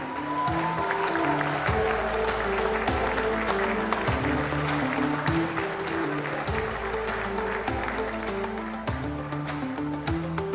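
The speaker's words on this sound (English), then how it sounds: "Let's have the biggest round of applause for these two." Sustained crowd applause for two squash champions, one Pakistani and one Egyptian, at the U23 World Squash Championship, loud and continuous with sharp thuds cutting through the clapping.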